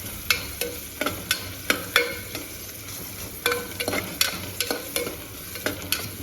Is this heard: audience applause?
no